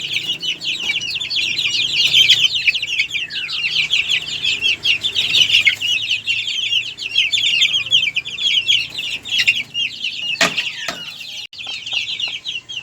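Chickens kept with bantams and month-old chicks cluck continuously and fairly loudly, overlapping calls forming a steady chorus close by with a few sharper chirps.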